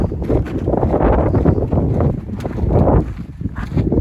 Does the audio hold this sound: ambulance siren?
no